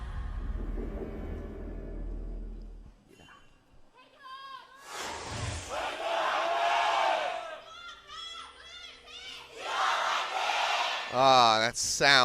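A packed arena crowd at an LCK Summer Split 2017 League of Legends match between SKT T1 and KT Rolster, roaring and cheering in swelling waves, with an announcer's voice cutting in between bursts.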